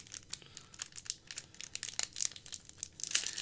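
Foil wrappers on Magic: The Gathering card packs crinkle and tear open in a quick run of close, crisp rustles and rips. The bursts are uneven and no one speaks.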